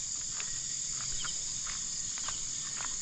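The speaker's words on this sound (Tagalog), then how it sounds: "mga insekto" Night insects chirp steadily in a garden, a dense continuous high-pitched trill with scattered brief chirps rising above it, no voices.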